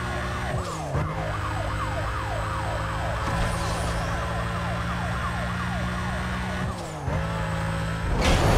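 Police sirens wail loudly and continuously in the Need for Speed Most Wanted (2005) racing game, several cruisers overlapping in rising and falling sweeps over a steady engine drone, unbroken for the whole stretch.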